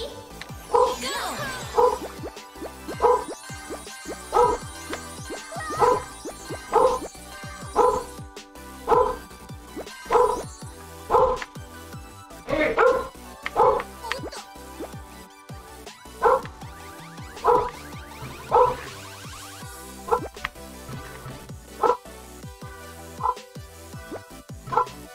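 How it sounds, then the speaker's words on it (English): A dog barks loudly and repeatedly, about once every second or two in a steady rhythm, close by and clear over faint background game sounds. "Dog's really loud today."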